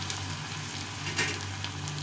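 A dried red chili and chopped onion sizzle in hot oil in a pan, giving a steady, fairly quiet hiss and crackle with no one talking over it.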